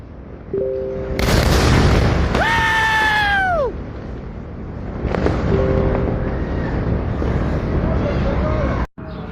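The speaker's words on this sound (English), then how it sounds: "This explosion is impressive." A missile strike in Dezful, Iran, sounds as one heavy, distant boom that rolls on for a couple of seconds, followed by rumbling aftermath while people shout and scream in reaction nearby.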